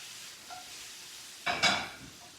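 Brussels sprouts in a hot pan hiss into a burst of sizzling as they are tossed, with a brief scrape and rattle of the pan close by, then settle back to a softer fry.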